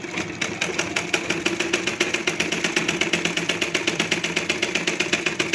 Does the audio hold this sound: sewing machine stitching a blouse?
yes